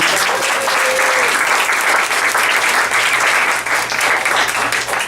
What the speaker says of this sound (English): let's have a round of applause for Mr. Brian Matthews